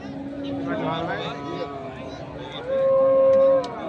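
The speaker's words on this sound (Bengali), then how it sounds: "সেরা মানের কিছু গরু দেখছি আমরা" A bull at a busy cattle market gives a loud, drawn-out moo lasting about a second, amid a crowd of voices and other livestock sounds.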